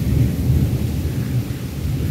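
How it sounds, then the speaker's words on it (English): Deep thunder rolls continuously during a summer thunderstorm, a loud low rumble with faint rain noise and no voices. "Summer gets the best time of thunder and lightning."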